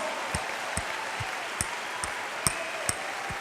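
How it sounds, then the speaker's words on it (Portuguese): A church congregation claps at an evening service, a soft continuous patter under a room wash, with sharper individual claps or taps ringing out at intervals. "Vamos aplaudir ao Senhor com força."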